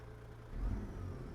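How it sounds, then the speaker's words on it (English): A truck engine idles in American Truck Simulator, hauling a drywall load, a low steady drone that swells briefly midway with a revving rise before settling back to an even hum, with no talk. "I got the volume on the engine so we can hear it now"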